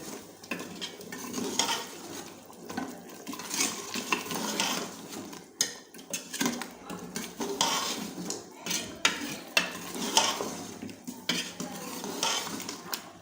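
Yogurt being stirred into beef paya in a cooking pot, with continuous scraping and clanking of a spoon against metal over a soft sizzle, close and busy, no speech.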